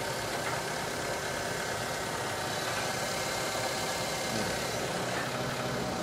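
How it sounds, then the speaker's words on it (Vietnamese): A small used car's 1.6-litre four-cylinder engine idling under an open hood, a steady mechanical hum with faint ticking, close and continuous. "Động cơ mình là 4 máy nè."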